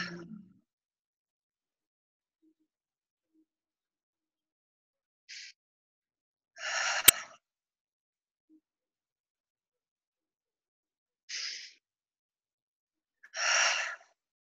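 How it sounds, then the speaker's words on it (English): Slow deep breaths during a meditation, heard as separate airy inhales and exhales with long silences between them, close and fairly soft. "I'm just going to do 3 deep breaths while you create and sit and let that land for you"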